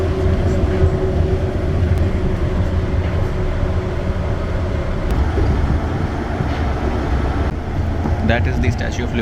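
A train in Japan rumbles along steadily at close range, with a loud continuous roar and a person speaking over it.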